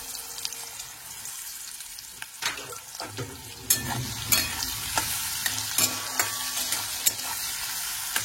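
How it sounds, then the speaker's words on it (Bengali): Prawns coated with salt and turmeric frying in a pan with nigella seeds and dried chillies, a steady close sizzle broken by scraping and tapping of a stirring spatula. "চিংড়ি মাছটা ভাজা হয়ে গেছে"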